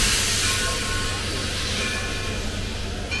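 BR&W steam locomotive No. 60 runs tender first hauling an Erie caboose and two passenger coaches toward Flemington, a steady broadband rumble and hiss of the moving train, close and continuous, with no voices.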